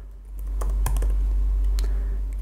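Typing on a Mac computer keyboard, a handful of sharp, close keystroke clicks spaced irregularly over a low steady hum, with no voices.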